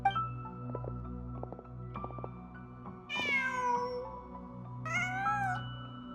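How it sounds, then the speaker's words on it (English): In the Genshin Impact video game, a cat lets out two drawn-out meows over a steady ambient in-game background hum, with a few soft clicks before the first call. "Just a cat."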